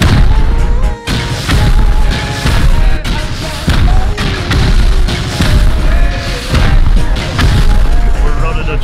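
Rust base raid with repeated loud booming rocket explosions, heavy thuds landing in close succession over a dense, noisy game mix while people talk over voice chat.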